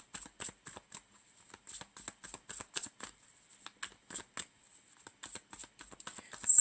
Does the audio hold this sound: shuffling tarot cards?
yes